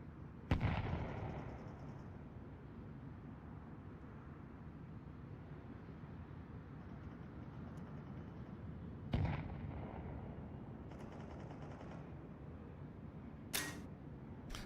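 Decoy grenade in Counter-Strike 2 mimicking gunfire, a few sharp isolated bangs spaced several seconds apart over a steady low game rumble, fairly faint and without talk.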